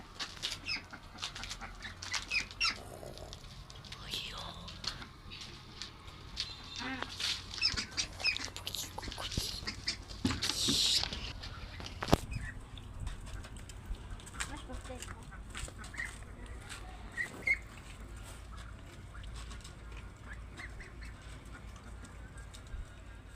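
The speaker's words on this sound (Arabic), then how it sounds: "سيبكوا شويه مع صوت البط وارجع لكم تاني" A flock of ducks quacking on a rooftop, with chickens mixed in, irregular close and distant calls over a long stretch amid scattered clatter and background noise, with occasional voices.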